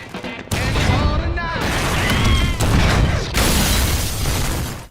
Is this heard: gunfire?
yes